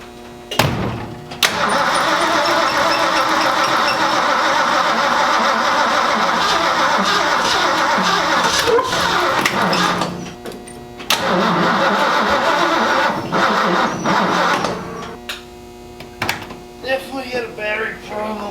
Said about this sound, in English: this battery won't even hold a charge enough to get this thing started